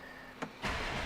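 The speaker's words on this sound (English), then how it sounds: "I'll just bring the car to life" A 2019 Porsche 911 Carrera 2 (992) starts, a brief starter whirr followed by the engine catching into a loud, full, steady idle close by.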